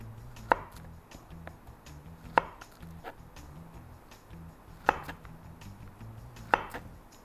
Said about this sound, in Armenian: կարող եմ արագի վրա բանանը կտրատել